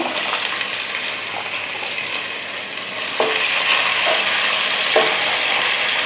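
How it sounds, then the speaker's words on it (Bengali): Chopped onion dropped into hot oil for a beef and potato curry, a steady bright hiss that swells slightly louder partway through, with a few faint stirring knocks, no voices. "এখন আমি এই যে কুচি করা পেঁয়াজটা দিয়ে দিচ্ছি।"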